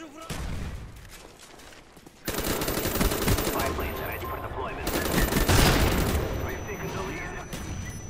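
Rapid automatic gunfire from Black Ops (BO1) multiplayer, sustained bursts of machine-gun fire that are loud and close, swelling from about two seconds onward, with a player's voice heard under the shooting.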